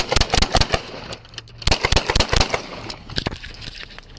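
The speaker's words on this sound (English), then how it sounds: "Shots fired." A rapid volley of sharp, loud gunshots during a fatal police shooting on a street, recorded by dashcam and bodycam, firing in quick irregular clusters with a few scattered shots trailing off at the end.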